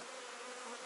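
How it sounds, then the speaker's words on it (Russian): Honeybees hum steadily while working on hive frames, a brief, faint, even drone with no other sounds. "И здесь пчелы аккуратно работают."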